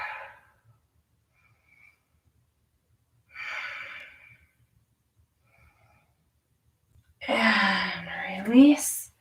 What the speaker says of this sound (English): Couple breaths here.